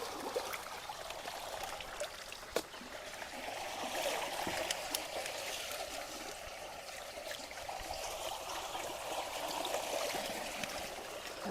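Rainwater flowing steadily through a freshly cleared culvert after a storm, a continuous soft rushing trickle at moderate distance with no talk.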